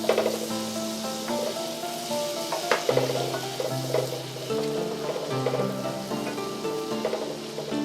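Kerrygold unsalted butter melts in a pot with a steady, close sizzle and crackle, bubbling continuously while a few clinks and stirring knocks sound over it.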